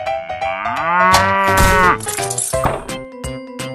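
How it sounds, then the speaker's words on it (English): A cartoon cow lets out a loud, drawn-out moo that bends in pitch, followed by a few shorter, choppier moo bursts, with no talking. "Cow."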